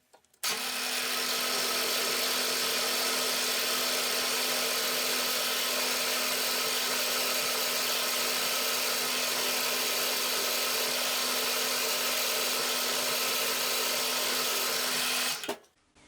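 A 4.2 mm drill bores steadily into round bar stock, a continuous close motor whine with a steady tone running unbroken for about fifteen seconds, then stopping, with no talk.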